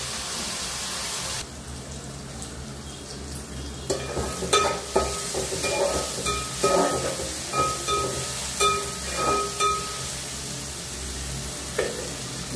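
Onions fry in a pan with a soft background sizzle while a utensil stirs them, producing a series of scraping, clattering strokes at close range.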